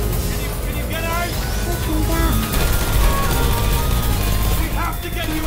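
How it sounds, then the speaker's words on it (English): Rapid gunfire crackles through a dense, busy mix of Portal 2 game sound, steady and fairly loud, with voices talking over it. "I heard gunfire!"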